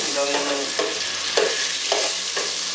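Butter melting in a hot pan while a spoon stirs it, a steady bright sizzle with soft periodic scraping strokes about every half second, close and fairly loud, with no talking.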